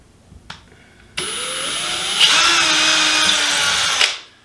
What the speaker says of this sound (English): my drill started to go in and then it pushed all the way through